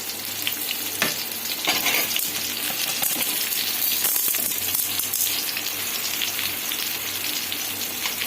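Beetroot, coconut and onion sauté in a pan for a beetroot chutney, with a continuous close sizzle and frequent scraping stirs, plus a few sharp clinks of the spatula.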